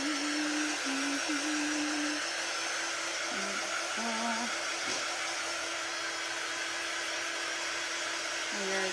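A hair dryer runs steadily and loudly throughout, drying glitter close by, with a constant whooshing roar and faint tonal whines shifting slightly in pitch.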